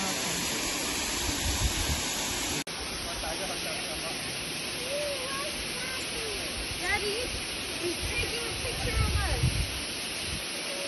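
Steady broadband rush of a waterfall at Bride's Pool on a Hong Kong nature trail, continuous and fairly loud throughout, with faint voices and a few bird calls over it.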